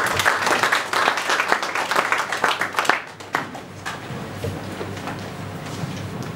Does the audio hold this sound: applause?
yes